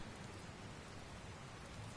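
Steady, dense rain falling on water in the Dragon Quest Builders 2 video game, an even hiss of many drops with no voices.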